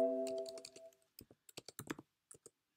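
Keys clatter on a computer keyboard in a short irregular burst of about a dozen crisp clicks, close and alone, following a brief tonal beep at the start.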